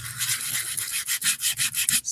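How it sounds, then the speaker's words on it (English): A sander scuffs across glued, shiny playing cards in a quick series of about eight rhythmic, gritty rubbing strokes, close and moderately loud, with no voices. "Just sanding to get off that sheen"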